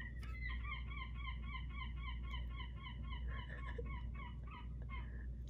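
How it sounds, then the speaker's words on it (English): A bird calls repeatedly outdoors in a steady, chirping pattern of short, high notes over a constant low background rumble, fairly clear and continuous with no talking. "I heard a bird and I thought it was like from the my computer."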